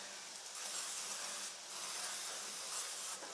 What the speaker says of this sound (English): Now I'm just using a canola oil cooking spray.